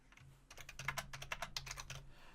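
Steady typing on a computer keyboard, a quick run of close, crisp key clicks in an irregular rhythm over a faint low hum, with no talking.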